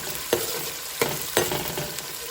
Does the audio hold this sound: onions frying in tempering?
yes